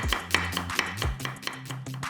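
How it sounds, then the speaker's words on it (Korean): Quick, close knife strokes slice a quarter onion thinly for a cold seaweed soup, about ten crisp taps on a cutting board in a fairly steady rhythm, with no voices. "양파 4분의 1개는 맵지 않게 얇게 채 썰어"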